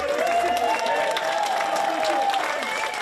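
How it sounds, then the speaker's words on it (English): A crowd gathered at the Stradey Park Hotel in Furnace, Llanelli, claps and cheers for the hotel staff, a dense steady wash of applause with voices calling out underneath. "A cheer for the staff at the Stradey Park Hotel, some in tears, their jobs on the line"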